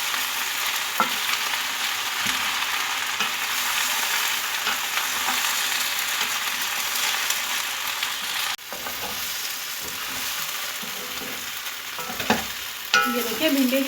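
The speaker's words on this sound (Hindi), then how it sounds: "ये देखिए भिंडी को हम इस तरह से फ्राई कर लेंगे सॉफ्ट होने तक।" Okra frying in a pan with a steady, bright sizzle throughout, broken by scraping stirs of a spoon against the pan, close and fairly quiet.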